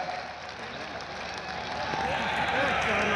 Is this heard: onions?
no